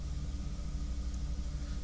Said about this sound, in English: You might hear a tractor outside. I do actually live on a working farm.